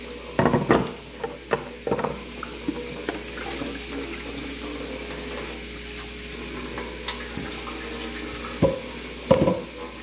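Tap water runs into a kitchen sink during washing up while dinner cooks, with splashing and clattering dishes loudest at the start and end over a steady flow.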